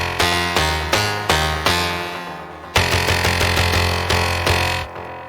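Afterlife-style synth with its first oscillator alone, playing a rhythmic pattern of sustained harmonic chords with a deep bass layer, each note struck with a sharp attack and slow decay, loud and close with no voices.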